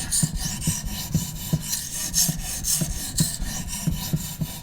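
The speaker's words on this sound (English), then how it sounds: "We now change to the less aggressive side of the Norton combination stone, and you'll notice immediately the noise has changed." A steel blade is honed by hand on the finer side of a Norton combination stone, giving steady rasping strokes about twice a second, close and moderately loud, with no voices.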